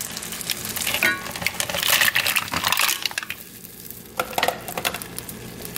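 Mussels sauteing in white wine with lemon pepper in a pan, a close sizzle broken by stirring scrapes and the clatter of shells against metal, heard alone without talk.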